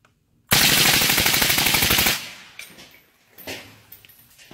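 Twenty rounds of suppressed gunfire in one rapid continuous burst, loud and close for about a second and a half, followed by fading metallic clinks and quiet handling noise.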